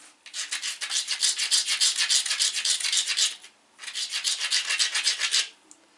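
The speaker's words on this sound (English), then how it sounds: "that's what I always try and do when I finish a preform, is I'm going to grind it" A flint biface preform's edge is ground against an abrasive in two sustained bursts of rapid rasping back-and-forth scrapes, loud and close, with a brief pause between.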